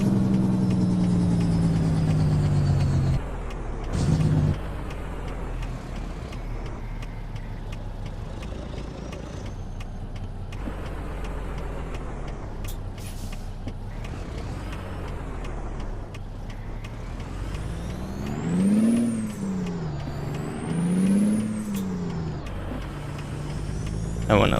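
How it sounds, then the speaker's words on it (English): A Kenworth W900 truck in American Truck Simulator rumbles at low engine pitch while braking, with a short hiss of air brakes, then the engine note rises and falls as it moves on. "I'm gonna brake, so I want you guys to hear it."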